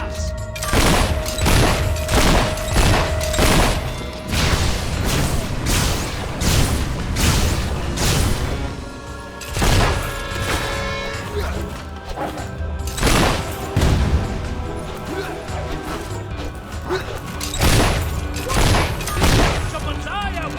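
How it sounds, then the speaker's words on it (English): Enemies firing guns in the Fable III video game, dense bursts of gunfire and booming impacts crackling steadily for about twenty seconds, loud and close, mixed with game clutter and spoken voices throughout. "Suckers shooting at us."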